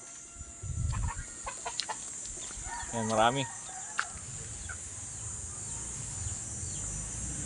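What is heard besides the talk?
hens clucking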